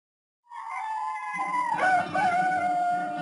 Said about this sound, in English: And then the sound of the crowing of a cock, the cock at the mission.